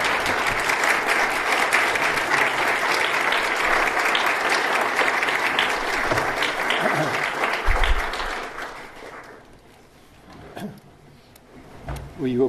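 An audience at a pro-life talk in Charlotte, North Carolina, gives a monsignor a loud, dense welcoming ovation lasting about nine seconds, which then dies away into quieter room noise and a few thumps.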